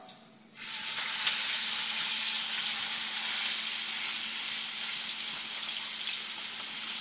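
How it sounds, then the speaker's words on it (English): Steak hitting a very hot pan and searing, a loud, steady, close sizzle that bursts in suddenly after a quiet moment and then holds as a dense hiss, with no talk. "we're going to put the steak in the pan"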